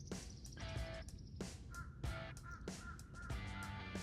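A crow caws several times in short, repeated bursts against steady background noise, fairly loud and close, with no talking.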